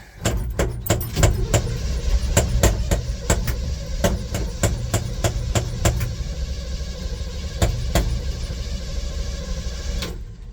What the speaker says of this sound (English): let me crank on it, get the fuel back up to the car